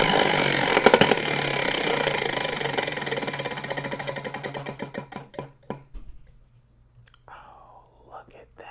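A prize wheel spins in a small indoor space, rattling off rapid ticks that gradually slow and spread apart over several seconds until the wheel stops. A voice speaks faintly at the end.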